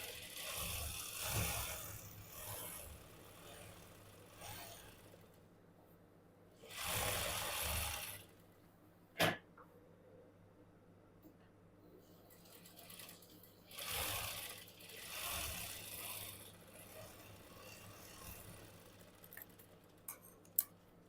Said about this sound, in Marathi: आता पुन्हा आपल्याला अशा पद्धतीने दाबटीप मारायची आहे